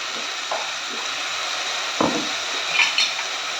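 Coarsely ground onion and garlic dropped into hot oil with curry leaves, a steady sizzle and frying hiss with a couple of sharp utensil scrapes and clinks against the pan, close and moderately loud.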